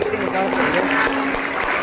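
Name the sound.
audience applause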